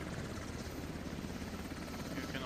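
Russian helicopter in the game Squad, a steady close rotor whir and thrumming engine drone holding evenly loud throughout, with a voice faintly underneath.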